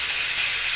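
Pork slices for humba sizzle in hot oil, a steady close hiss of frying that runs without pause and with no talk over it.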